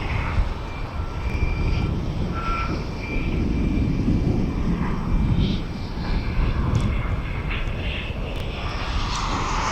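A Ryanair airliner roars at East Midlands Airport, a loud, steady broadband engine rumble with whining tones, sustained throughout at fairly close range.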